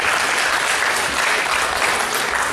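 A church congregation applauds in a dense, steady burst of clapping that stays loud and even throughout, with no voices standing out.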